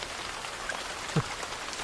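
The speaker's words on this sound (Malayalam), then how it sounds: "മഴ നല്ല കനത്താ പെയ്യുന്ന കേട്ടോ." Heavy rain falls in a continuous, fairly soft hiss of drops on surfaces, even and unbroken, with a single brief tap standing out near the end.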